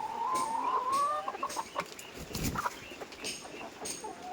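Laying hens cluck softly nearby, opening with a drawn-out rising call followed by a few short, scattered clucks against a quiet background.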